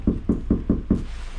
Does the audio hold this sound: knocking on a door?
yes